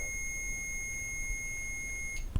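A REM pod ghost-hunting device in a hotel gives off a steady high electronic tone with a second pitch above it, holding continuously before cutting out, followed by a brief thump.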